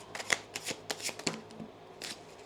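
Tarot cards shuffled close up, a series of soft riffling bursts and taps at an uneven rhythm, quiet and alone without talk.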